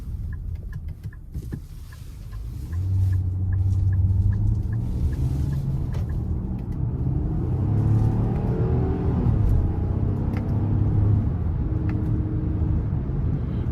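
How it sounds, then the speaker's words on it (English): A 2023 Nissan Pathfinder Platinum V6 in sport mode, heard from inside the cabin, gives a deep rumbling engine and exhaust note that swells as it accelerates, with low steady drone and rising tones, and no voices. "I actually like the exhaust note."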